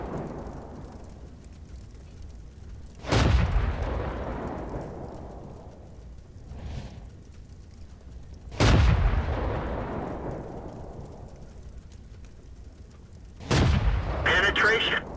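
Tank cannon fire in World of Tanks, three heavy booming shots spaced several seconds apart, each with a long rumbling decay over a low battlefield background, with game voice callouts.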